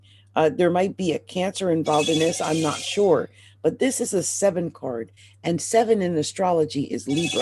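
A telephone rings repeatedly in the background, its steady tone running throughout beneath continuous close talking during a tarot card reading.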